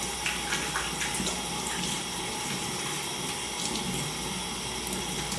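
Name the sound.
water running from tap while washing hands at sink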